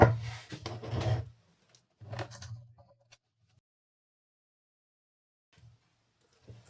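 Short scraping, rasping cuts as uneven edges are trimmed from a handmade leather knife sheath, two close bursts of rough rubbing followed by long near-silence with faint taps at the end.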